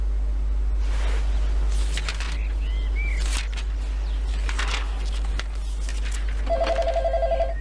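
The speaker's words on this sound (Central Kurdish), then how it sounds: "بم دەی با ژمارەکەی هاشم بگرم" A telephone rings briefly near the end after a number is dialed, a short bright trill sounding fairly close. Scattered bird chirps come before it, with a constant low hum throughout.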